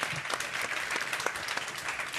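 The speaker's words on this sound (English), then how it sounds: "Give them another round of applause." At a Gran Turismo Pro-Am race event in New York, an audience gives steady, dense applause, a continuous even wash of many hands clapping at moderate loudness with no voices.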